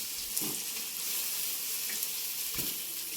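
Eggplant slices fry in a pan with a steady, bright sizzle, broken by a few soft scraping clicks as the pieces are turned; close and alone, with no talk.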